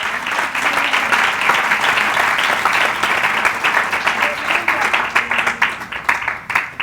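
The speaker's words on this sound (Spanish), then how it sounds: "Dale palmas al Señor." Church congregation clapping during a sermon, a dense, steady wash of many hands that carries on for the whole stretch, with faint voices mixed underneath.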